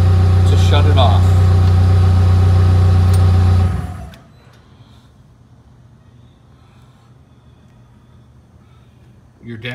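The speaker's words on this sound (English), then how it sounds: "Idling the engine to shut it off." A loud PowerBoss Nautilus HD floor scrubber engine idles with a steady hum, then winds down and shuts off about four seconds in, leaving quiet background.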